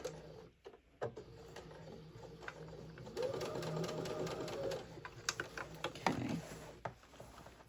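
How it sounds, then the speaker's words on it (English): A sewing machine back stitches over a seam on a patchwork tote bag, its motor whirring in steady bursts with short pauses and clicks between runs, close and clear with no talk. "And let me just back stitch over this."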